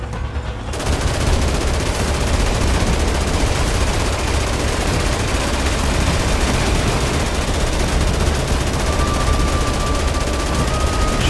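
Tank gunfire in Dead Rising Deluxe Remaster: a dense, loud, continuous barrage of rapid gunshots and rumbling fire that runs without a break for the whole stretch.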